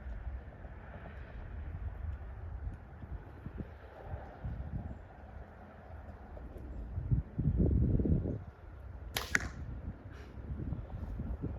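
A Mathews Lift compound bow fires an arrow into a target outdoors, with a soft string release and a brief sharp impact standing out over a background of wind and rustling.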